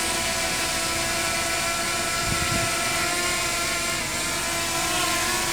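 A small drone hovers and sets down, its steady high-pitched rotor whine droning continuously at close range with a brief low thump partway through; no voices.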